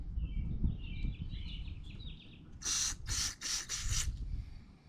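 Several short bursts of aerosol carburetor cleaner sprayed through a plastic Briggs & Stratton lawn mower carburetor, four hissing blasts in quick succession after a soft chirping noise, close and fairly loud.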